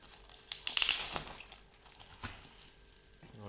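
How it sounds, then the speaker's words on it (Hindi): Polythene packaging around a book crinkles in a short burst of rustling while it is unboxed, fairly close, then fades to quieter handling noise. "तो पॉलीथीन में पैक की हुई है।"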